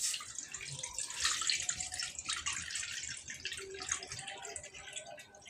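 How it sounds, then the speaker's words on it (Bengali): Water poured into a wok on a stove while cooking bichuti (nettle) leaves: a steady, splashy broadband pour running throughout, close and fairly loud, with no talk. "এবার কড়াতে খানিকটা জল"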